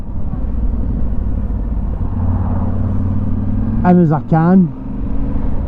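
Steady motorcycle engine rumble while riding a new adventure bike, loud and constant with wind noise, someone talking over it and a brief revving pitch swoop near the end.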